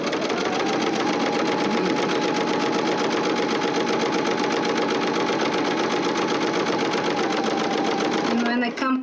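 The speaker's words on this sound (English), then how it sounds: "I just put the edge of the fabric next to the edge of my presser foot, and just will start top stitching." A sewing machine top stitches along the fabric edge beside the presser foot while making a project bag. It runs loud and continuous at a fast, even pace before stopping near the end.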